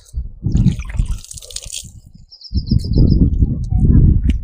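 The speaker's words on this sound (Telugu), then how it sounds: "చేయి కడుక్కుంటా." Hands being washed with clear well water in a quiet Telangana village, two bursts of close splashing and pouring separated by a short pause, with a bird chirping faintly in the background.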